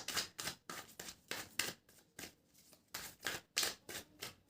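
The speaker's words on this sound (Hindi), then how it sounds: "टैरो कार्ड शफल कर रहे हैं आपके।" Tarot cards being shuffled by hand, a close series of rapid riffling bursts, about a dozen in a quick uneven rhythm, with brief quiet gaps between and no talk.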